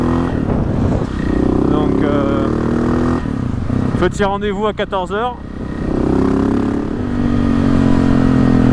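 A KTM motorcycle engine hums steadily while riding, with a rising rev in the middle and someone talking over it.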